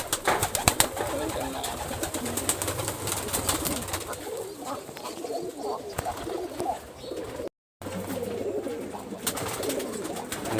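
Pigeons coo steadily at a Rajshahi pigeon farm keeping colourful high-flying tumbler breeds, a close, continuous chorus of soft throaty calls with occasional wing flaps throughout.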